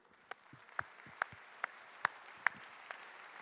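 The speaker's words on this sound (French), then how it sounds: "merci de l'applaudir" A few scattered hand claps at a congress, about seven sharp isolated claps spaced evenly over a quiet room, faint and sparse rather than a full ovation.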